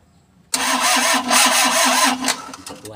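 A Mitsubishi L300 diesel engine, running rough and weak, is cranked by its starter after a short silence, giving a loud, rhythmic churning that carries on for a few seconds.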